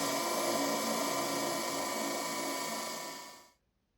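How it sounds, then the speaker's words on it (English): Power drill boring fastening holes for deck fittings on a carvel-planked wooden boat, a steady high-pitched whine running continuously for about three and a half seconds before cutting off abruptly. "clean up the surfaces and drill for the correct size of fastening."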